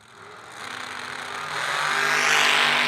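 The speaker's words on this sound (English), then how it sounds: "the blower dragster out of Maryland" A blower dragster from Maryland, a supercharged drag racing car, rumbles at the start line and builds in loudness and pitch over three seconds, its engine note swelling steadily with no voices present.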